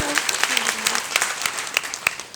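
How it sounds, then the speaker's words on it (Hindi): A crowd claps, brisk and moderately loud, with sharp individual claps standing out over a steady patter of applause. "कंपनी के top achiever Mahaguru Mahipal sir के लिए जोरदार ताली होनी चाहिए"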